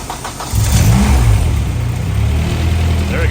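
A Honda Civic with a swapped K24 engine, converted from automatic to manual, cranks and catches, then settles into a loud, steady, close rumbling idle.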